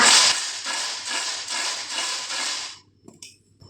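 Fried jackfruit chips being tossed with chili powder in a vessel, a rhythmic series of crisp rattling, scraping strokes repeating about every half second, then a few faint clinks as the mixing stops.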